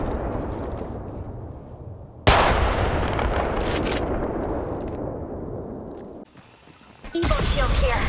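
Bursts of gunfire crack out in a mobile shooter game match, with heavy sudden volleys breaking over a rumbling battlefield bed and a short lull before the firing picks up again.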